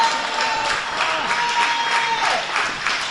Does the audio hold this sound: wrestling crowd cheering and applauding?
yes